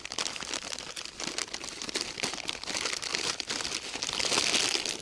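Household trash crinkling and crunching steadily as it is stuffed into a plastic bag at a campsite on an overnight fishing trip, a close, continuous rustle with no talking.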